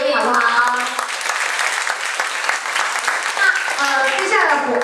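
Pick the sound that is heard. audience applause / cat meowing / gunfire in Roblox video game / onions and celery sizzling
audience applause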